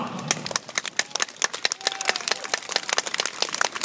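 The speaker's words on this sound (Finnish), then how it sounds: "Tässä muuten päästään samalla testaamaan, miltä kuulostaa aplodit Aurajoen rannalla." A crowd on the east bank of the Aura river applauds at the opening of a new bridge, scattered outdoor clapping with sharp individual claps, moderately distant and uneven.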